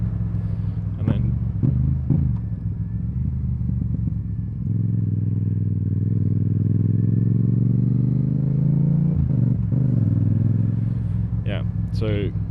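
Motorcycle engine blipping its throttle during downshifts with rev matching: a steady idle-like drone swells into a long, loud rising rev, with short sharp throttle blips at the start and end, voices talking throughout.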